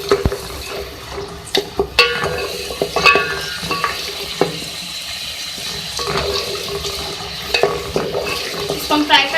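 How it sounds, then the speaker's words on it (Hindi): Star anise, cinnamon and black cardamom fry in a pan for a spicy chicken dish, a soft sizzle under sharp, intermittent stirring scrapes and clinks, near and moderately loud, with no talk. "इसको हम फ्राई कर लेंगे। ये देखिए फ्राई हो रहा है।"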